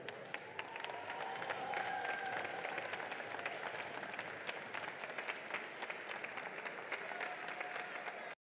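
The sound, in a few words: audience applause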